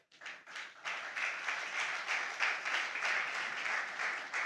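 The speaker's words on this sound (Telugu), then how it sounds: "గట్టిగా ఒకసారి చప్పట్లు కొట్టండి పిల్లకే." Children at a Sunday church service clap together in sustained applause, a dense wash of many hands swelling in after a brief start and holding steady at moderate volume.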